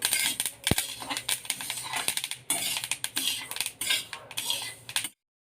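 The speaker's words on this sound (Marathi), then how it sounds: "मी गॅस बंद करते आणि सगळं जवस खाली काढून घेते" Roasted flax seeds scraped out of a pan onto a plate with a spoon give close, brisk metallic scraping and rattling with one sharp knock early on, ending abruptly in silence.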